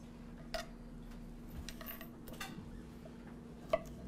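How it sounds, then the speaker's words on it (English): A knife chops on a board in a home kitchen in a few sharp, separate clicks and knocks, quiet and close, with gaps of near silence between strikes. "and then just chop it"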